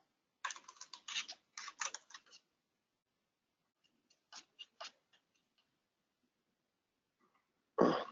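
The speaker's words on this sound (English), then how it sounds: "I'm going to have to type it into here." Keystrokes on a computer keyboard typed into a browser search field: a quick burst of close, crisp clicks, a short pause, then a few scattered taps, ending in one louder thump in otherwise quiet surroundings.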